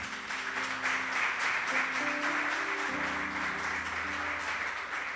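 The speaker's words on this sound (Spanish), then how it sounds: "Un fuerte aplauso." Audience applause at a Spanish-language church service, steady and sustained throughout, with a low sustained organ or keyboard tone shifting pitch underneath.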